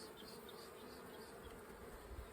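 Honey bees swarm around an opened hive, a dense, steady buzz holding level throughout with no voices.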